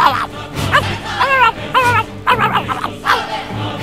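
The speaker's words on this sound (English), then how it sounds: "Then there's Bouncer, my dog." A dog barks and yips in several sharp, close bursts, some of them whiny, with no voices over it.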